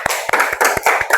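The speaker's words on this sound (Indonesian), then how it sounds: "beri tepuk tangan untuk kelompok terakhir" A classroom of elementary school pupils claps for the last presenting group, a few loud, close, uneven bursts of hand claps in quick succession, with no talking.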